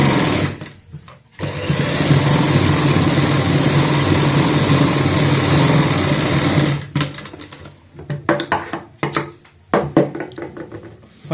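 A sewing machine top-stitches a frill on a baby frock, running in one loud, steady burst of several seconds, then breaking into short, stuttering bursts of stitching.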